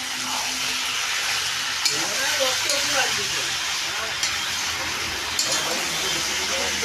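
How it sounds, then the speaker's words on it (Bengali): Goat meat frying in a pan while being stirred, a dense, continuous sizzle and hiss with occasional scraping clicks of the spoon, close and fairly loud. "খাসি মাংস একটু সময় লাগবে রান্না করতে, আস্তে আস্তে কষা করলে ভালো হবে খেতে।"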